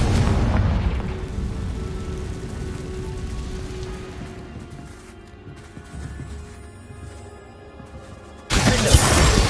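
A Confringo fire spell in Hogwarts Legacy bursts with a loud, crackling roar that slowly fades over several seconds, then a second sharp blast erupts at the very end.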